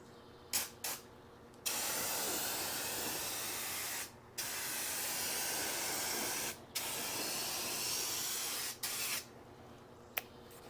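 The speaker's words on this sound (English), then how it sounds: "Let's lay down the paint." Several long, loud hissing bursts from a 24 oz Rust-Oleum Turbo spray paint can with a 10-inch wide spray pattern, separated by short pauses and a few faint clicks.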